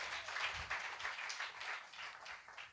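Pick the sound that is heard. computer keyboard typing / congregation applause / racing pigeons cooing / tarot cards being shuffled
congregation applause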